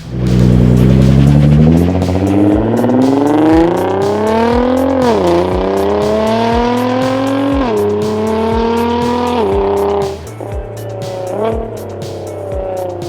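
A Nissan R35 GT-R on lowering springs, driven on a street, gives a loud, close engine note that climbs repeatedly through the revs, with short drops between gear shifts.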